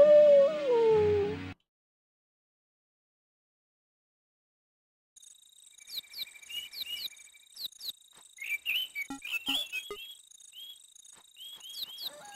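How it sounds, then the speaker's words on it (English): A single drawn-out wolf howl from the Sega CD Frankenstein game opens the sequence, then silence, followed by chirping, clicking game effects and insect-like trills. "Oh, it's a wolf actually."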